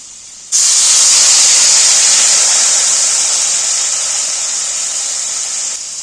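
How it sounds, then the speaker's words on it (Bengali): A little water poured into very hot oil in a pan while cooking hilsa fish erupts into a sudden, loud, sustained hiss that barely fades over about five seconds. "তেলটা তো খুব গরম হয়ে আছে তেলে মশলা দেওয়া যাবে না যার ফলে আমি একটু সামান্য জল দিয়ে দিচ্ছি"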